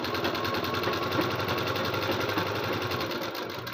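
A sewing machine runs steadily as it stitches the seam of a lined suit, its fast even whirring rattle close and continuous with no pauses or voices.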